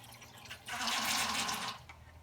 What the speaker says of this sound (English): I will pump this water into my sink and be done with it